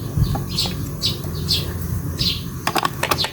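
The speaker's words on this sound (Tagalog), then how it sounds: "Maingin na mga ibon." Several birds chirp in short, repeated tweets after the rain, close and fairly clear, with light clicking noises near the end.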